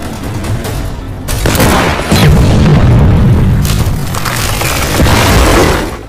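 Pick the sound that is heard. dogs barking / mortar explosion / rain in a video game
mortar explosion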